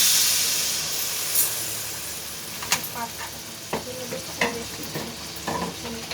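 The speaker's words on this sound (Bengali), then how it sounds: "আলু ভাজা হয়ে গেছে, এবার এতে পরিমাণ মতো জল দিয়ে দেব।" Water poured onto fried potatoes in a pan for a thin fish curry sets off a loud hissing sizzle that slowly eases, while a spoon scrapes and clinks against the pan now and then.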